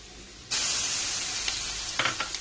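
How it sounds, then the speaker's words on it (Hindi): Onion with ginger garlic paste dropped into hot oil, a sudden loud sizzle that keeps hissing steadily, with a few soft stirring clinks near the end. "लहसुन पेस्ट डाल के मैंने 1 मिनट फ्राई कर दिया।"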